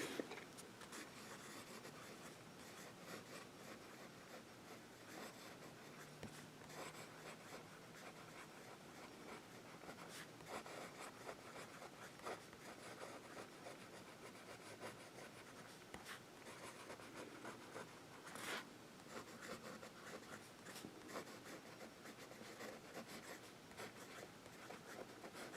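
A Lamy fountain pen with a steel nib drawing looping swirls on paper, a soft continuous scratchy rasp of nib on paper, close and quiet, with no talking.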